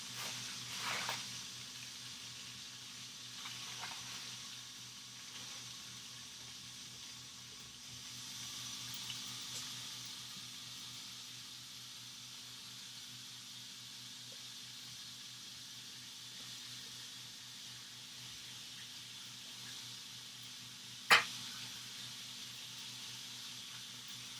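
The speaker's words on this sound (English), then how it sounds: "I'm just gonna put that right in there, wash my hands." Water runs steadily from a kitchen tap while hands are washed, a faint, even hiss that continues for a long stretch with a single sharp knock near the end.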